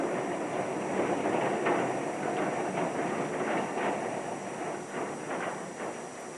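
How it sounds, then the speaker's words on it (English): Melbourne tram leaving the Hannah Street depot as the first service on a still midwinter morning: steady rolling rumble with soft rhythmic wheel clicks over rail joints, moderately distant and even, no talking. "The first tram of the day from the Hannah Street depot."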